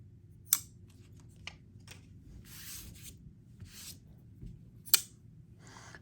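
A Kizer folding knife cutting material, with a couple of sharp snips and soft scraping rustles spread across a quiet room, faint and close.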